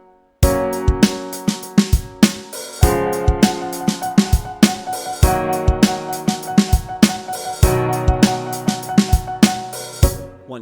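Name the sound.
keyboard chord played in triplet rhythm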